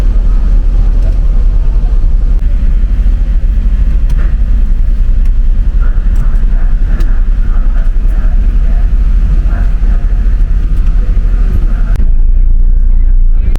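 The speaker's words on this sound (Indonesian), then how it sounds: "ini ada bus Sahalah yang baru masuk di terminal Jatijajar Depok ini" A large intercity bus pulls into a busy bus terminal, its heavy diesel engine rumbling loud and close throughout, with faint clatter and background activity around it.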